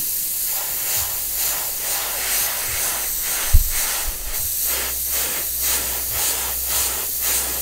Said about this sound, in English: it's been a while since I've sprayed